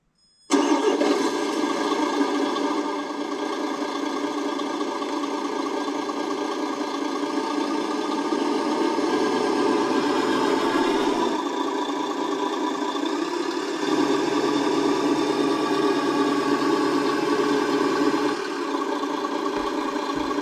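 A Traxxas TRX-6 RC hauler truck's simulated engine sound starts up and runs steadily, a continuous mid-pitched rumble with knocking texture that holds close and loud for about twenty seconds without talk.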